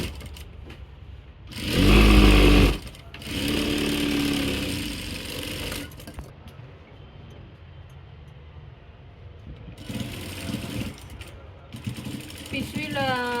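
A sewing machine stitches a cloth bag with a steady mechanical whir, running in several stretches between pauses. Someone speaks loudly nearby at times over the machine.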